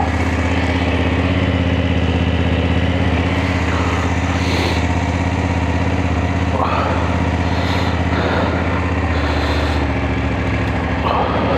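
A BMW 900GSA motorcycle rides Ireland's country roads with a loud, steady engine drone and a low rumble, mixed with wind rush the whole way through.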